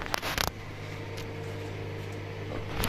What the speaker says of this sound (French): Il y a mes pâtes qui sont au micro-ondes